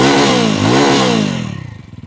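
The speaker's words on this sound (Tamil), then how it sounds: "எக்ஸாஸ்ட் நோட் வந்து நல்லா லவுடா இருக்கு, நல்லா பீட்ஃபுல்லா இருக்கு." A 350cc classic cruiser motorcycle's exhaust note sounds loud and close, a deep throbbing thump that swells briefly as the throttle blips and then settles back into a slow, beaty idle.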